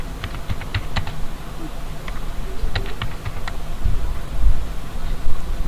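Keys tapped on a computer keyboard in irregular bursts of a few quick strokes, close and moderately loud over a steady low background hum, with no one speaking.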